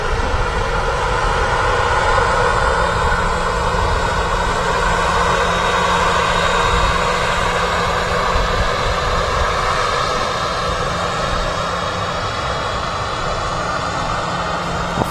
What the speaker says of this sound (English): TUI 767 touching down on 23 right at Manchester.